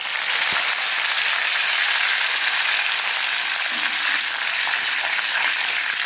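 Curry leaves fry in hot oil for a spicy potato fry, giving a steady, dense, close sizzle like light rain that holds for several seconds, with one soft knock early on and no voices.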